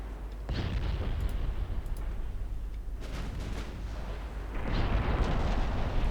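Main naval guns firing high-explosive shells in the warship game Ultimate Admiral: Dreadnoughts, a series of heavy booming salvos and rumbling blasts rolling over dense battle noise.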